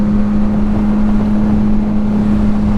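Modified 2025 Yamaha MT-09 motorcycle riding up a mountain road, its engine holding a steady loud drone at constant revs under heavy wind rush, with no talking.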